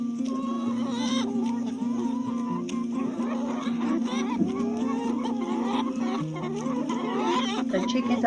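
Chickens cluck and squawk busily on a shady farm garden while eating organic vegetables, a close, continuous chorus of overlapping calls with a few louder cries among them.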